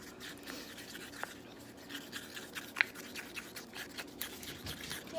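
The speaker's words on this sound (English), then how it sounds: "I'm just gonna stir them up together" Two epoxy parts being stirred together in a cup, quiet scraping strokes in an irregular rhythm with one sharper tap partway through.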